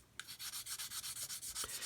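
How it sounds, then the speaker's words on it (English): Sandpaper rubbed back and forth over the surface of a model aircraft, a steady run of close, even rasping strokes in quick rhythm with no talking. "You can see I'm sanding here now,"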